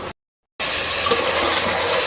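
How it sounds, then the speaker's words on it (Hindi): Chicken frying with garlic-ginger paste in a pan gives off a steady, close sizzle that kicks in after a brief silent gap and holds loud and even to the end. "इस लहसुन अदरक के साथ जो है ना चिकन को मैं फ्राई कर लूँगी"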